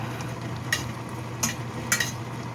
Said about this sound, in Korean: 이렇게 삶은 면수를 넣고 이제 끓여줍니다